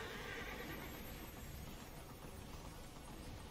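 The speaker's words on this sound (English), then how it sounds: "So we're gonna get on our horse again and just run down this ramp." A horse whinnies and gallops down a ramp in the video game Immortals Fenyx Rising, a loud, continuous blend of neighing and hoofbeats over dense game ambience.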